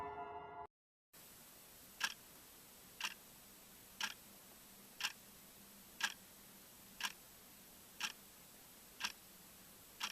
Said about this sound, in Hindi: उसने देखा एक पुरानी घड़ी आवाज कर रहा था।